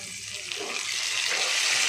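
Chopped tomatoes hit a hot frying pan holding fried chana dal, a loud rising hiss and sizzle that swells and keeps going, close up with no voice over it.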